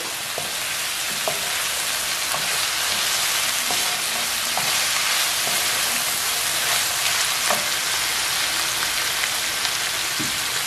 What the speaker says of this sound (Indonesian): Sekarang saya masukkan ikan asin jambar rotinya. Kita aduk-aduk.